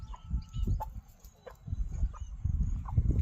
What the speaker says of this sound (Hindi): ये मुर्गी, मुर्गा है